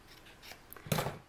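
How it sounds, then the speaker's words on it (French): Scissors snip through a strip of coloured paper in a single close, crisp cut, after a few faint rustles of handling. "je vais venir couper une languette"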